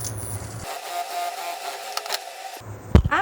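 A sewing machine whirs in one steady burst of about two seconds while stitching a seam on a small fabric organizer bag, starting and stopping abruptly, with light clicks afterward.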